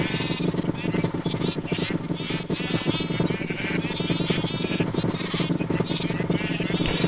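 Sheep in Minecraft bleat over and over, overlapping and fairly loud, a dense flock of wavering cries stacked over a steady low background hum throughout.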